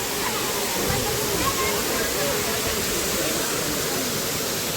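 Murga Mahadev waterfall in Keonjhar, a constant broadband roar of falling water, loud and unbroken throughout.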